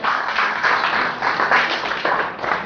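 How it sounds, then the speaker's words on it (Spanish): A church congregation applauds together, a dense sustained patter of many hands clapping at steady loudness throughout, with no speech over it. "¿Cuánto le dan un aplauso a Dios por eso?"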